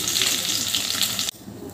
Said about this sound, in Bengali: মাছগুলো ভাজা হয়ে গেছে, এবার আমি তেল থেকে তুলে নেব